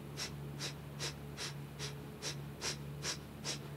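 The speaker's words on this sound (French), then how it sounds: "Respiration du feu." Rapid, even yoga breath-of-fire breathing during a twisting flow: about nine sharp, forceful nasal exhalations in a steady rhythm, close and clear over a low steady hum, with no talking.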